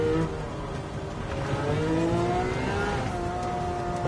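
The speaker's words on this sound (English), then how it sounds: "Let me try to hear the engine sound." Car engine in the Gran Turismo video game on PS5, a steady revving drone with rising and falling pitch sweeps that sounds continuous and fairly loud throughout, with no talking.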